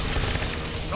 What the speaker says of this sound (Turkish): Şarjör değiştiriyorum.